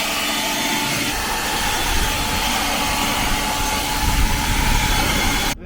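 A dedicated detail blower dries the engine bay of a C8 Corvette, making a loud, steady rushing roar that holds even throughout and then cuts off abruptly at the end.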